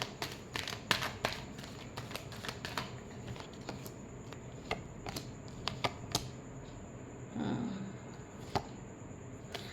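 Tarot cards being shuffled, a run of quick papery riffles and taps over about ten seconds, close and fairly soft, with a brief fuller rustling burst near the end.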